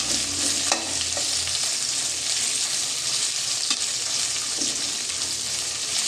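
Dried chillies, garlic and a little onion fry in a pan for a Mangalore-style sardine pulimunchi. A steady, dense sizzle runs throughout with a few faint stirring knocks.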